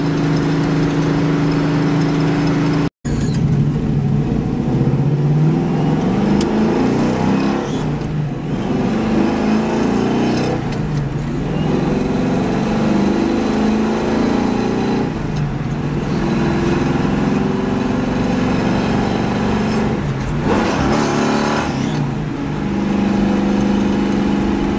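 A 350SS engine running as the vehicle is driven on the road, a steady loud drone that swells and eases several times as the throttle is opened and lifted, with no talking.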